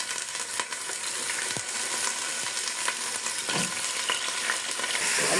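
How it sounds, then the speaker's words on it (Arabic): Pieces of meat frying in ghee in a pot, a steady close sizzle and crackle with occasional stirring clanks and scrapes, no voices. "يلا ننزل بالسمنة وننزل بقطع اللحم."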